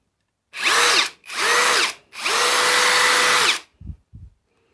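Parkside Performance brushless impact driver spinning up in three loud bursts of high motor whine, the last held longest, followed by two brief softer clicks.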